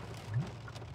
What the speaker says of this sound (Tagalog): Ang lakas na, ang lalaki ng patak ng ulan, no?